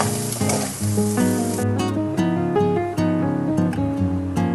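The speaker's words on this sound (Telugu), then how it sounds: "చాలా ఈజీగా ఎగ్ ఫ్రై చేసుకోవచ్చండి" An egg fries in a pan with a bright, continuous sizzle, heard up close beneath a layer of tonal music.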